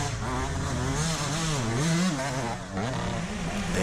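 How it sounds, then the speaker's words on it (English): A two-stroke dirt bike engine wound out hard during a muddy Mid East Racing event, a steady, fairly loud buzzing drone whose pitch rises and falls as the rider revs through the ruts. "Just listen for a wound out 2-stroke."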